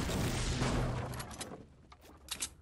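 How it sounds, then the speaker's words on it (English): Fortnite video game gunfire, a loud burst of rapid shots first that thins into scattered, fainter pops and cracks in the distance. "But there's gunfire over there."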